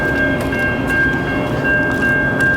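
A steady rumble of an Amtrak Wolverine passenger train standing nearby in Pontiac, Michigan, with a constant high tonal whine over a low mechanical hum.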